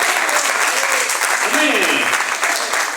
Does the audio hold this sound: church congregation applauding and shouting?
yes